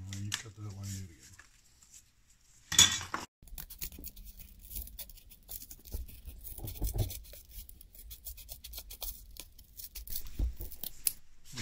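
Scissors cut through stiff cardboard along a traced line, giving a burst of snipping and a steady run of crisp crunching and scraping cuts, fairly close, with a person talking alongside.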